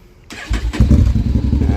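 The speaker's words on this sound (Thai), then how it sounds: "สตาร์ทใช้เดียวติดนะครับ" A 2021 Honda X-ADV 750 motorcycle with a SC exhaust fires up after a brief starter whir, then settles into a loud, close, throbbing idle.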